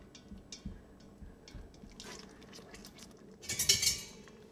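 A utensil stirs BBQ rib sauce in an Instant Pot, giving faint scattered scrapes and clinks against the pot, then a brief louder burst of clinking and liquid sloshing near the end.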